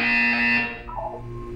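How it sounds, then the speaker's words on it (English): A harsh, loud buzzer in the Portal 2 video game sounds for about half a second, then cuts off, leaving a lower electronic hum and faint game ambience. "You will hear a buzzer."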